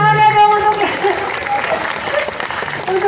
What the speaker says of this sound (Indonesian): Ya tepuk tangan ya dong